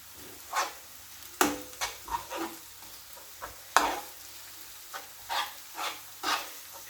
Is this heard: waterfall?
no